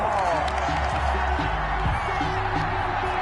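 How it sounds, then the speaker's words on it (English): Football stadium crowd reacting to a penalty flag, a broad, sustained roar of many voices with scattered shouts and whoops, steady and continuous, heard from within the stands. "Well, the crowd doesn't like that."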